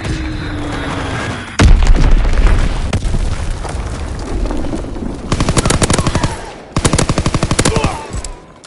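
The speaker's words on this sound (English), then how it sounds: "Dropping Fritz X bomb." A Fritz X bomb explodes with a heavy boom in the Call of Duty video game, followed by loud, rapid bursts of machine-gun fire in quick rhythmic volleys.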